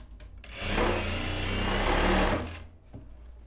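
Sewing machine stitching a seam over stretched elastic on a pantacourt garment, one steady mechanical whir of about two seconds that starts and stops abruptly, close up and with no talk.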